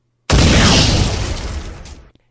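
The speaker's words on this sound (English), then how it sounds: "the deafening blast of the cannon" A cannon blast for a pirate audiobook sound effect: one sudden, loud boom that hits sharply, then rumbles and fades over about two seconds before cutting to silence.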